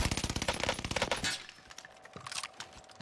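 Rapid bursts of automatic gunfire in the video game Warzone Pacific, a dense rattling volley for about a second and a half, then sparser scattered shots and clinks trailing off.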